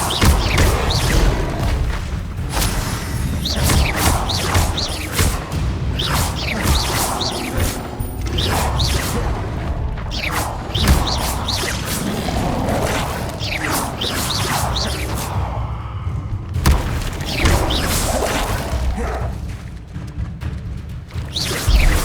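The Incendio fire spell is cast repeatedly in Hogwarts Legacy, with whooshing bursts and crashing impacts landing over mechanical combat clatter in a busy, loud fight.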